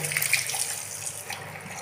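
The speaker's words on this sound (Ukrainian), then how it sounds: "А вода сама тече." Water runs steadily from an automatic sink tap in a large accessible restroom, a continuous close hiss and splash with no talking.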